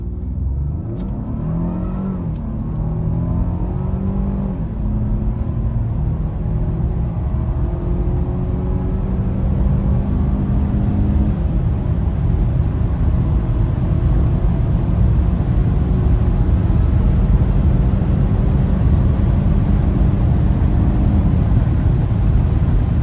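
A Lincoln Nautilus accelerates hard in a 0 to 160 km/h test, its engine note climbing through several gear shifts into a loud, sustained drone with road and wind roar.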